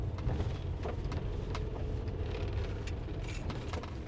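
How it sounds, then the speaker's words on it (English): A car drives along a rough, washed-out road in Morocco, its engine a low steady rumble with wind buffeting the microphone and scattered clunks and rattles as it passes close by. "here comes a car. Got to get over."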